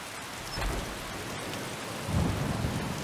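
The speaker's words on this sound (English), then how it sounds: "Raining today." Steady rain with rolling thunder in the video game Blades of Redemption, a continuous downpour with two low thunder swells, loud and close, with no voices.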